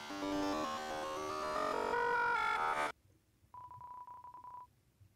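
Tones from a phone in the video game Deltarune: after game music cuts off, a short, steady electronic beep sounds with a few brief breaks, fairly quiet and alone.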